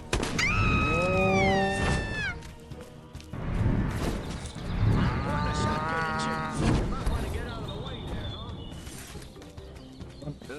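Cows mooing in the video game Destroy All Humans!, several long drawn-out moos in turn, loud and near, mixed with character voices talking and a few brief hoof clops.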